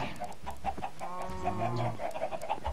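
Chicken clucking in the Minecraft video game, a steady run of short repeated clucks close by over faint game ambience, with no talking.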